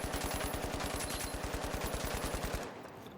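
A heavy weapon in a first-person shooter video game fires one rapid, unbroken burst of closely spaced shots for about two and a half seconds, then abruptly stops.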